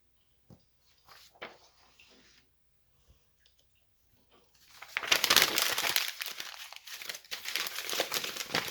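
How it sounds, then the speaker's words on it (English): Paper is crumpled by hand into a ball in a junk-journaling pan ahead of coffee dyeing. A few soft crinkles come first, then a loud, sustained stretch of close, dense scrunching and crackling. "Crumple it up."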